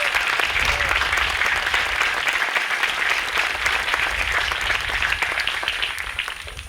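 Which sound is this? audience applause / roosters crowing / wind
audience applause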